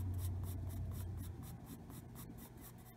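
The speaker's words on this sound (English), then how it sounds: "These are just light flicks of the pencil." A colored pencil flicking lightly across paper in quick, evenly spaced scratchy strokes, about a dozen soft rasps in a steady rhythm, close and quiet with no speech.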